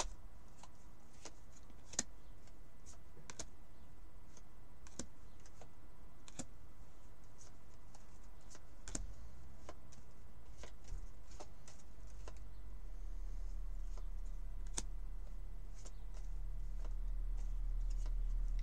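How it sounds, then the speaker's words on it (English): Tarot cards from an Arthurian Tarot Hallowquest deck pulled out one by one, giving a string of light, crisp card flicks and slides at an irregular pace, close and quiet, without talk, with a low rumble growing near the end. "I'm pulling out all the major arcana, the greater powers as they call them in this deck."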